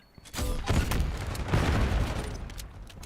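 A frag grenade explodes in Call of Duty: Black Ops 6, a loud, dense blast and rumble that rolls on for a couple of seconds amid surrounding gunfire, with no voices.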